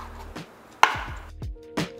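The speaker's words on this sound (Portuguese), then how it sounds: "Vou começar cortando ela assim em pedaços menores para fritar e facilitar na hora de desfiar" Knife chopping carne de sol, sun-dried beef, into smaller pieces on a board, four or five sharp close chops spaced irregularly with short resonant tails.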